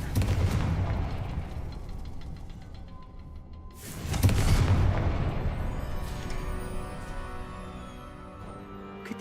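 Confringo fire spell blasts in the Hogwarts Legacy game: a loud burst opens, dies back, and a second heavy booming blast hits midway before trailing into a fading rumble.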